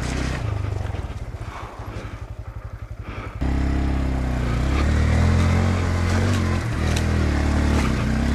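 A 2022 Honda Grom small-displacement motorcycle rides a single-track dirt trail, its engine putting out a pulsing idle-like rhythm before opening into a louder, steady drone that rises and falls close by.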